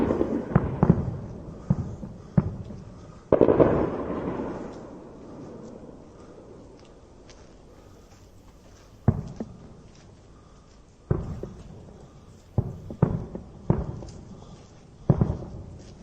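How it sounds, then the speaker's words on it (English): Distant missile interception explosions crack and pop like fireworks, a scattered series of sharp bursts with faint rumbling trails, some clustered in quick succession and separated by quieter gaps. "It sounds like fireworks. It sounds like, something that you would hear at a firework display."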